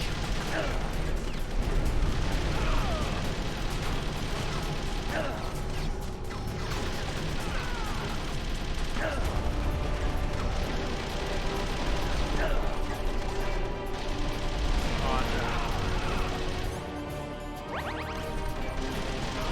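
Gunfire from Snake in the Metal Gear Solid: The Twin Snakes video game, dense continuous shots and metallic crashes layered over game sound, loud and busy throughout, with voices talking over it.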